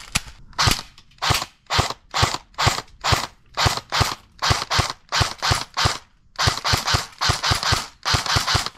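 An airsoft gun firing a rapid, steady string of sharp snapping shots, close and loud, with a few brief pauses between groups of shots.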